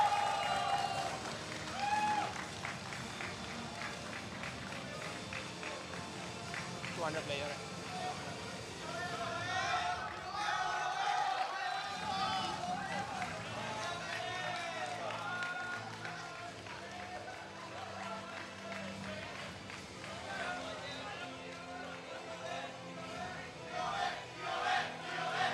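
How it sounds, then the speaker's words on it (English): A crowd at the Bandai Card Games Fest tournament in Kuala Lumpur chants and cheers during a prize ceremony, with rhythmic shouts and claps under an announcer's voice over a loud, continuous hall ambience. "You can hear a lot of passionate chanting in the crowd"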